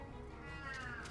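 A house cat named Pharaoh meows once in a rising, drawn-out cry that sits over the steady music and sounds of a Kingdom Hearts Chain of Memories game.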